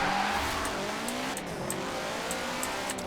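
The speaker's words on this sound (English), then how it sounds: "I forgot how obnoxious this flipping engine sound is." A self-made Unity racing video game plays a continuous synthesized car engine drone with a rising and falling pitch and tire-like noise, steady and fairly loud throughout with no talking.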